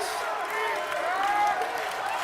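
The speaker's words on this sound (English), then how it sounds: "And the crowd making noise." Basketball crowd at an Oregon Tech men's game against Eastern Oregon, with a steady wash of noise and scattered applause and whistles through a tied late-game moment, fairly loud and continuous.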